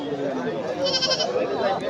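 Goats bleat amid a busy crowd at a village livestock market, their calls mixed with steady background chatter at close range.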